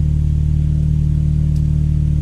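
A Volkswagen Golf 4 GTI engine idles steadily while warming up, with a deep, even drone, holding a constant low pitch throughout without revving.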